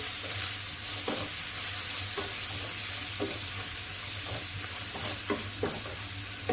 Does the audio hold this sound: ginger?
yes